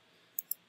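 Two crisp, light computer mouse clicks sound close together near the middle of an otherwise quiet moment, with no voices.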